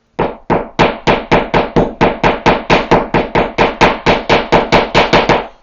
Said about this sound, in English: With the butt of my 15-in-1 tool, I smack it in there a bit.